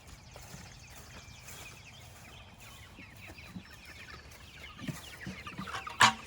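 Chickens clucking faintly in a movable chicken tractor on a summer farm, scattered soft calls over low outdoor background, with a few louder knocks and rustles near the end.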